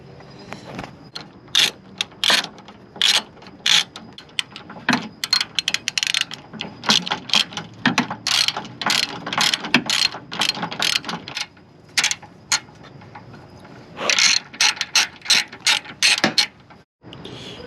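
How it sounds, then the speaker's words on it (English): Ratchet wrench working the coilover bolts on an 8th-gen Honda Civic Si, loud close bursts of rapid clicking in many short runs separated by brief pauses, with no talk. "I will torque them down to spec after I get everything buttoned up and put together."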